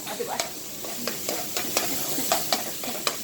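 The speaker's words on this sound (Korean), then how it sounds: "이렇게 썰어서 썰어서 볶아주세요" Vegetables being stir-fried in a pan for vegetable omurice, with steady close sizzling and repeated scraping taps of a utensil stirring the ingredients.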